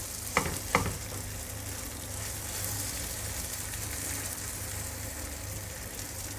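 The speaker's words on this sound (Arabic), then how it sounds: "دهنت دهنة زيت كده في الطاسة، ونفرد كده البطاطس خالص في الطاسة" Grated potato spread thin in an oiled frying pan, giving a steady soft sizzle throughout with two brief sharp clatters near the start.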